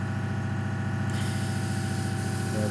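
An airbrush running at about 20 psi sprays paint straight from the bottle onto an old scale-model wing, a steady close hiss over a low mechanical hum that brightens partway through.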